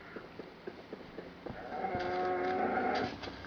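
Cow mooing in the 2D Minecraft-like mobile game Crafted, a drawn-out low call rising over soft tapping game sounds, moderately loud and alone without speech.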